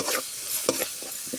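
Crab gravy masala sizzles and hisses in a pan over low heat as chilli powder and a splash of water go in. Brief scraping strokes of stirring break in over the steady frying.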